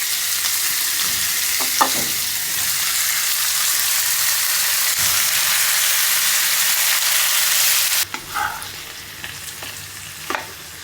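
A pan of food fries with a loud, dense, continuous sizzle, then quiets abruptly near the end, leaving a few soft clinks and scrapes.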